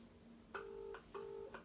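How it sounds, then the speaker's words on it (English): A phone call placed on loudspeaker, two faint electronic ringback tones in a steady repeating pattern over a low background hum, no talking. "We are ringing."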